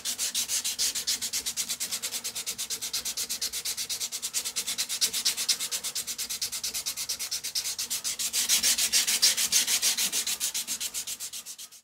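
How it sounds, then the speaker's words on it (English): Hand sanding of a 5160 steel knife blade, a chopper, with fine grit paper: a continuous close scratchy rasp in quick steady strokes, growing slightly louder near the end, with no speech. "So now we're going to be working on the 600 grit and just making sure that we get everything sanded"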